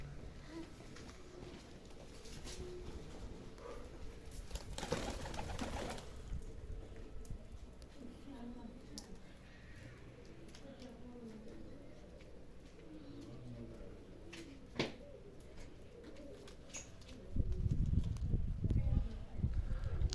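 Soft cooing from Çorum naked-neck pigeons comes in intermittently amid quiet background noise and occasional voices, ending with louder rustling and handling sounds.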